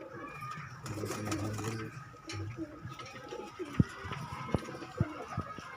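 Soft, low pigeon coos repeat under quiet background voices, followed by several sharp knocks or taps near the end.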